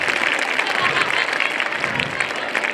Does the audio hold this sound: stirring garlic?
no